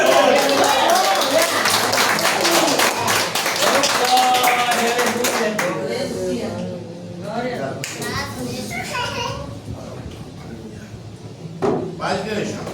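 Church congregation claps, a loud burst of many hands for the first half that thins into scattered claps and murmuring voices, then a few more claps near the end.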